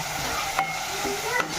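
Ginger-garlic paste is stirred in a hot pan for a bitter gourd and tomato curry. It gives a loud, close sizzle broken by two quick scrapes of the spoon against the pan.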